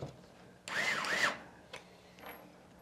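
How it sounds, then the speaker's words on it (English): An electric screwdriver whirs briefly, twice in quick succession, driving thumb screws into a PC fan assembly on a gaming PC chassis, followed by a couple of faint clicks and a softer buzz. "And you're even going to use the screwdriver with thumb screws."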